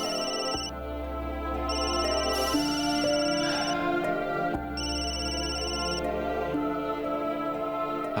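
A phone rings for an incoming call with a repeating electronic ringtone melody in steady cycles, playing clearly indoors with no talk over it.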